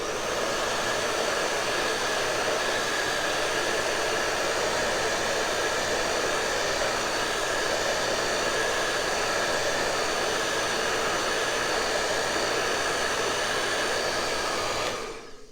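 A hair dryer blows steadily and loudly at close range for about fifteen seconds to dry decoration on a baked treat, then cuts off at the end.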